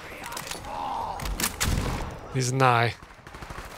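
Rapid SMG gunfire from the video game Borderlands 3 crackles in dense bursts, moderately loud, with a voice talking over part of it.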